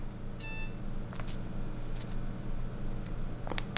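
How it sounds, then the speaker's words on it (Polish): A brief, faint electronic beep tone from a Nokia 108 phone's message alert plays once, followed by a few soft clicks over a low steady background hum. "sygnał odbioru wiadomości"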